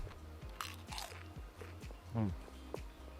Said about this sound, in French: Le gras croustille.